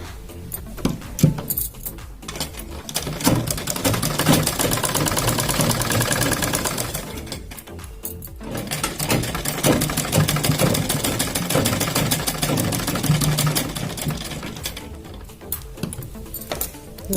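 A sewing machine runs steadily while stitching a double seam on a kurti. The motor whirs and chatters at a close, fairly loud level, pausing briefly twice before starting up again. No one speaks.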